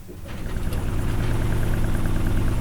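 A sailboat's engine motors steadily, a loud close low drone with a rhythmic throb and no talk.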